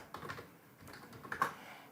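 Soft, close typing on a computer keyboard while entering data into Excel, a few irregular quiet clicks and taps with a brief burst near the end.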